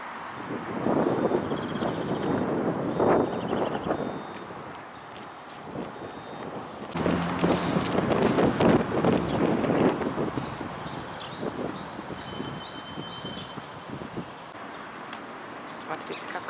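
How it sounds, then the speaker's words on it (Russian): Strong wind buffeting the microphone outdoors near an area of demolished garages, loud gusty rumbles rising and falling, with a person talking intermittently under it. "А ветер сильный."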